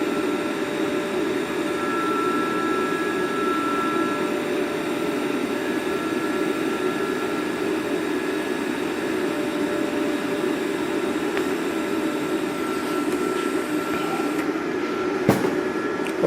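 A YES Welder Tig 205 TIG torch lays a bead on hot rod metal, making a steady, even electrical hiss and hum that runs unbroken for a long stretch, fairly quiet and close, with a brief click near the end.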